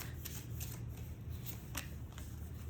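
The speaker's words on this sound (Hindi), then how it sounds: "तो उसके लिए शैडो कार्ड्स निकालना ही ज़रूरी होगा।" Tarot shadow cards being shuffled by hand, a steady papery riffle with a few sharper flicks as cards are drawn, close and fairly quiet throughout.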